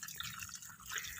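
Water poured onto loose, porous soil around a durian tree soaks in at once, giving a faint, soft trickling and dripping that stays low and steady throughout.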